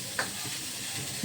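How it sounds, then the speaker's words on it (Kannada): Curry leaves and beetroot frying in a pan as they are stirred, a short steady sizzle with a brief sharper spatter near the start and no talk. "ಕರಿಬೇವು ಬೀಟ್ರೂಟ್ನ ಹಾಕಿ ತಿರುಗಿಸ್ತಾ ಇರಬೇಕು."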